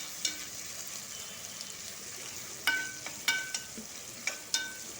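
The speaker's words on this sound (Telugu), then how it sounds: "ఇట్లా కొంచెం ఇట్లా కొద్దిగా ఫ్రై అవ్వాలి" Thin-sliced vegetables for street-style veg noodles sizzle in a hot pan. A low, steady frying hiss runs throughout, broken by several sharp metallic clinks and scrapes of a spatula against the pan, with no voices.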